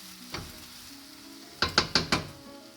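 Egg fried rice ingredients with onions, Vienna sausages and chilies stirred in a frying pan: a faint scrape early on, then four quick, loud spatula scrapes in a row over a low sizzle.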